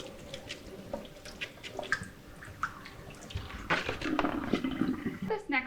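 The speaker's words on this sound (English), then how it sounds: "Let me wash this yarn." Water runs and splashes while wool yarn is washed by hand for natural dyeing, a faint uneven trickle with drips and sloshes that grows busier toward the end, with no speech over it.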